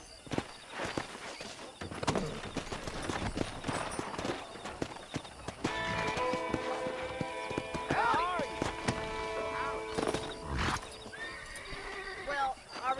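Horse in the Red Dead video game clops along with steady hoof beats near a town saloon, then lets out whinnies and snorts, while someone speaks over it throughout.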